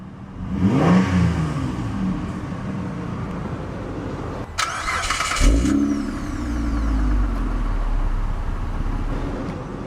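A 2007 Mitsubishi Galant 3.8 GTS cranks and starts, the engine revs up, and a sharp burst follows. The exhaust then settles into a steady idle with a low rumble, and no one speaks.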